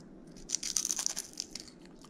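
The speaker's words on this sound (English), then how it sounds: "Listen to this crunch." Crunchy fried mangrove snapper tail, dusted with habanero, is bitten and chewed up close, giving a brief burst of crisp crackling crunches that fades out within about two seconds.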